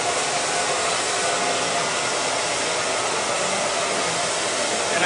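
A handheld hair dryer blows steadily at a salon styling session while hair is brushed and dried, a loud, constant broadband whoosh with no pauses and no voices.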